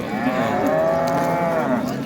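A cow moos loudly and steadily at a cattle bazaar in Baliqchi, one long drawn-out low call lasting about two seconds, close by with no talk over it.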